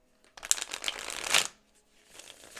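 Tarot cards being shuffled by hand, a quick burst of riffling and slapping card noise that builds to a loud flurry, pauses, then resumes softly, close up with no talking.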